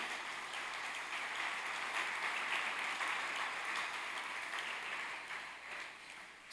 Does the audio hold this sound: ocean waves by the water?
no